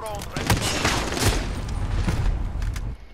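Loud, dense gunfire from Call of Duty Modern Warfare rattles steadily for about three seconds, rapid bursts and booms packed together up close before cutting off abruptly near the end.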